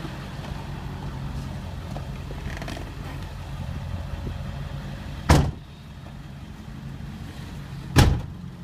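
A 2002 Ford F-550 XLT truck's engine hums low and steady on a test drive, with two sharp loud thumps, like a door or a jolt, standing out near the end.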